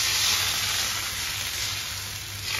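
Ghavan batter hitting a hot pan sizzles in a steady, close hiss that holds level for a couple of seconds with no talking.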